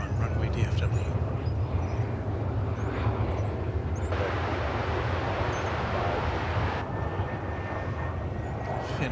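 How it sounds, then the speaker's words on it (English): An Airbus A321 on the runway at DFW Airport produces a steady, broadband jet engine roar that holds for several seconds, swelling slightly midway, with a person talking over it. "an Airbus A321. For your viewing pleasure on Runway DFW."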